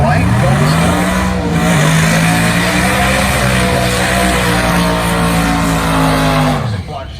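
A twin-turbo big-block Chevy drag race car running on methanol roars loudly through a sustained pull, engine note rising and holding steady before cutting off near the end, with a commentator talking over it.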